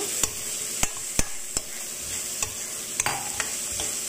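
Green peas fry in a pan for a tomato moringa curry, a steady sizzle broken by sharp spoon clinks and stirring scrapes that come every half second or so, close up, with no voices.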